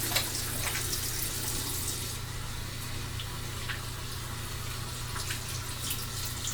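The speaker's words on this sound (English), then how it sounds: "I'm about to like actually wash my hands before I really touch my face." Hands are washed under a running tap, a steady, even splashing rush of water that stays constant and fairly close, with no speech.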